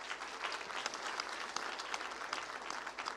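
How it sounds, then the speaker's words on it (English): Applause for a panel at the close of a conference session on AI for energy, a steady, fairly faint wash of many hands clapping in a hall, continuous and evenly spread with no voices over it. "please give a big round of applause to the panel"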